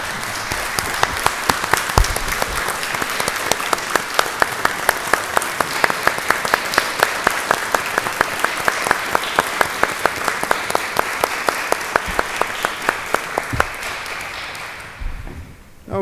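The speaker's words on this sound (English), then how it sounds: "recognize the job that our teachers do by giving them a round of applause" A council chamber audience gives teachers a round of applause at a county council session, sustained even clapping with a few sharp individual claps standing out, lasting over a dozen seconds before dying away.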